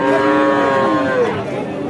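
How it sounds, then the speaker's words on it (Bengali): An Australian-breed dairy cow gives a loud, close, drawn-out moo lasting most of two seconds, falling in pitch toward the end; no talk over it. "দেখুন দর্শক কি জাতের গাবি এটা অস্ট্রেলিয়ান"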